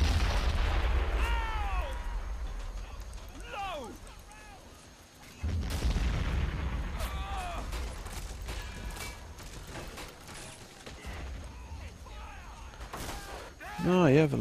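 Booming artillery blasts, explosions and bursts of gunfire as an anti-tank cannon is destroyed in the Men of War Assault Squad strategy game's Singapore battle. Heavy impacts recur through the stretch with crackling shots between them, and faint voices come and go.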